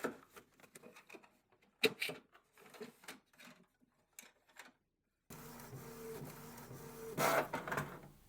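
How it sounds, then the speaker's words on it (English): A Canon MegaTank G4280 inkjet printer works through a page: a run of short mechanical clicks and whirs, then a steadier motor hum with a louder feed burst near the end. "The printer is receiving the print."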